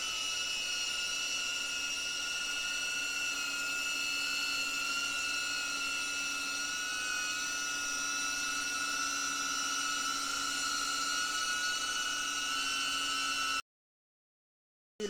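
A DJI Avata FPV drone on a beginner's first flight gives off a steady, high-pitched motor whine with layered tones over a soft airy hiss, holding evenly until it cuts off abruptly near the end.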